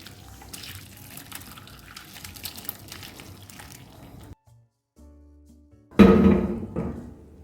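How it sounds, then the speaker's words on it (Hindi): Curdled milk for rasgulla poured and strained through muslin cloth to separate the paneer from the whey, a trickling, dripping wash of liquid, then a brief pause and a louder splashing pour at the end. "अब हमने जो दूध को फाड़ लिया था वो दूध इसको छान लेंगे, यानी पनीर को अलग कर देंगे और पानी को अलग कर देंगे हम।"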